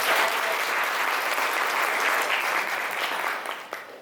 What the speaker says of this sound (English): So a round of applause for Celia.